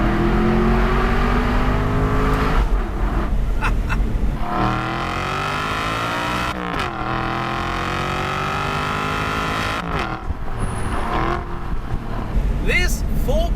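A 4.3-liter V8 engine in an Aston Martin V8 Vantage revs and roars up and down close by, with gear shifts and a throaty exhaust burble throughout.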